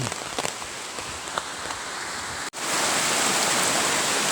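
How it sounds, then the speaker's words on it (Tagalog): Steady rain pours down in a dense, hissing wash, briefly cutting out for a moment before returning even heavier. "Ito na, ito na ulan."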